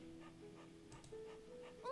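A dog whimpers softly in the horror video game Tiny Bunny: a few quiet, thin whines and yips over a faint ambient background, rising into a brief higher whine at the end.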